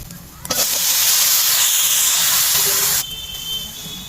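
Chana dal hits hot oil already fried with ginger and turmeric, giving one loud burst of sizzling hiss that holds steady for about two and a half seconds, then drops back to a quieter fry.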